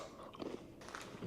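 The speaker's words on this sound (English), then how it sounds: "You can hear how crunchy it is." Close crunching bites into a crisp snack, several short brittle crackles in quick succession with no talking.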